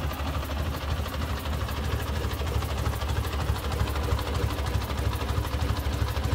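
A 1953 Ford NAA Golden Jubilee tractor engine runs steadily, exhausting under the rear like a car, giving a continuous low, even rumble at moderate distance with no talk over it.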